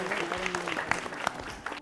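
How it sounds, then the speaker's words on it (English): A quiz competition audience breaks into applause after a contestant answers correctly, a short burst of scattered, fairly close hand claps at moderate loudness. "Let's clap for him."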